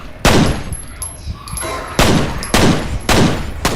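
Gunfire in the video game F.E.A.R.: four loud broadband blasts at roughly half-second to one-second intervals, each with a brief decaying tail, over a steady background of game ambience.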